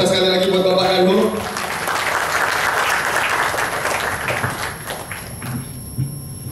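At a formal event honouring a government minister, a large audience applauds in a steady wash of clapping. A music sting and voice are heard in the first second, and the clapping gradually thins toward the end.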